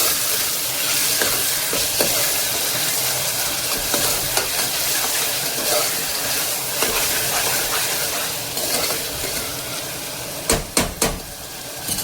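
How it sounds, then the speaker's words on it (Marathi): Chopped tomatoes and salt are stirred in a hot pan for khichdi, giving a steady sizzle with scraping spoon strokes and a few sharp clinks near the end. "टोमॅटो सोबतच मी ऍड करते मीठ आणि छान मिक्स करून घेते."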